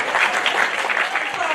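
An audience applauds at a policy discussion on book bans, a dense, steady burst of many hands clapping, fairly close and loud throughout with no speech over it.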